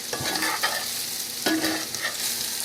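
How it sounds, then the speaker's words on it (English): Salt-and-pepper seasoned food sizzling in a pan for an open-faced roast beef sandwich, stirred with several close scraping strokes over a constant fry. "Stir it around a bit."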